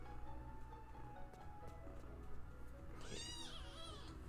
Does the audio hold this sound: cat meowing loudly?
yes